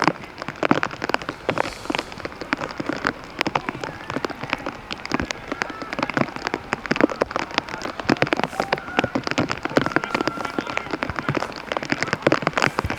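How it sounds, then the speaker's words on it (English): Rain pours steadily onto an outdoor football pitch in Salford during a match, a close, dense patter of drops hitting surfaces that continues without a break. "Once again, the rain coming down here at Salford, very inconsistent. Getting heavier."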